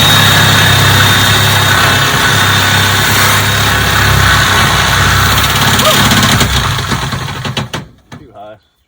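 A reciprocating saw cuts loudly and continuously while a bathtub is installed in a mobile home, its buzzing drone steady for several seconds before stopping abruptly, with people talking faintly underneath.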